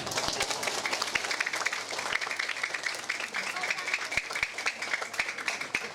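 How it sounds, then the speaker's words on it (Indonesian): Audience applause at a humorous Islamic sermon in Tanjung Agung, Katibung, a crowd clapping steadily with sharp individual claps standing out and a voice talking over it. "tepuk tangan dulu buat Pak RT."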